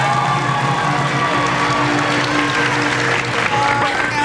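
Studio audience applause with cheering fills a late-night talk show stage, loud and steady throughout as the crowd votes for a singing parrot named Groucho.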